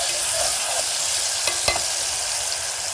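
Egyptian molokhia cooking in a pan gives a steady, close sizzle of frying with a faint stirring scrape, and two brief sharper crackles stand out midway through.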